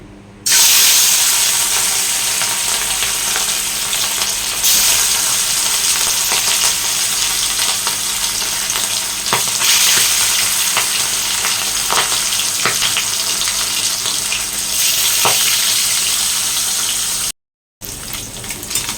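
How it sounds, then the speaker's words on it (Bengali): Fish frying in oil in a pan, a steady loud hiss and sizzle that runs continuously with occasional crackles, briefly cut by a gap near the end. "মাছটা এবার ভাজা করে নেবো।"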